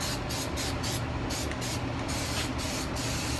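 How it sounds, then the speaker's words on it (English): Nason self-etching primer hisses from an aerosol can onto bare metal on a 1970 Challenger restoration, a continuous close spray broken by short rhythmic pauses between passes. "I'm just going to dust this with that self-etching primer to give me something to adhere to."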